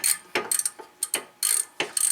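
A ratchet loosens the rear brake caliper bolts on a 1989 Mercedes 420SEL. It gives close, sharp clicking bursts in an uneven rhythm of short pulls with brief pauses between them.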